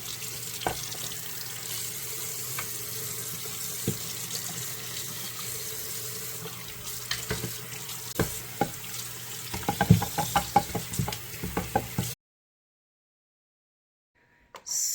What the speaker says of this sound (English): I took them to wash them.